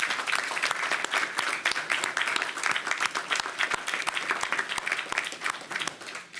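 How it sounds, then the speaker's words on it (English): A crowd at a New York City jails press event applauds the correction officers standing behind the podium, with moderate, uneven clapping that holds for several seconds and eases off near the end. "So I want to give those guys a round of applause."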